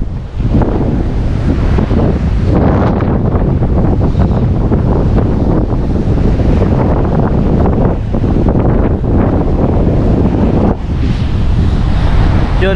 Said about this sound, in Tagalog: medyo ramdam ko na rin yung lamig kasi sa hangin nga, ang lakas